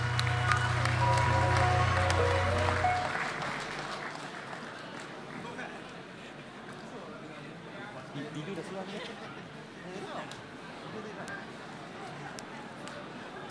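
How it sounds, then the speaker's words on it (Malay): Applause and crowd murmur fill a Pakatan Harapan convention hall in 2018, starting loud over a low hum for a few seconds and then settling into a steadier, softer clapping and chatter. "Beri tepukan tuan-tuan."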